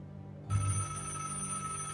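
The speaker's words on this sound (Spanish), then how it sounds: "El teléfono ha sonado todo el día." A telephone bell starts ringing abruptly partway in, a loud, sustained metallic trill that continues to the end over a faint background hum.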